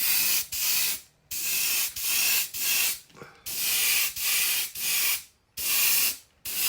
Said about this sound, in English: I'm trying to spray it kind of heavy.